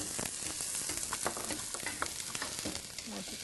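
Onion and garlic sizzle and crackle in a hot pan for a Filipino dish, a steady loud frying hiss with scattered pops and stirring scrapes throughout, no talking over it.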